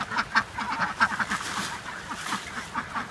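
A small flock of ducks quacks in quick, rapid bursts around a permaculture compost pile, close and lively, the chatter rising and falling over a few seconds.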